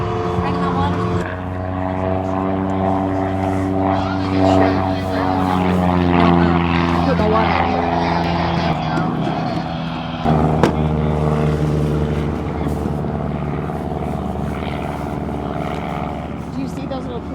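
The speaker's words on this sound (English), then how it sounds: "Do you see those little planes flying around our area from the airport over here?" Small propeller planes flying overhead at a July 4 air show drone loudly and steadily, the engine hum rising and falling as they pass, while people talk nearby.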